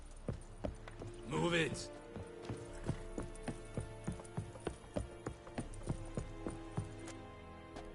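Geralt's horse Roach in The Witcher: Wild Hunt walks with regular, clear hoof clip-clops, close by. A brief spoken line comes early over the hoofbeats.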